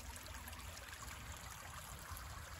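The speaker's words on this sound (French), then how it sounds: "il y a le ruisseau ici, juste à côté." A small stream flows right beside a stand of giant hogweed on its bank, giving a steady, close, even rush and trickle of water with no voices over it.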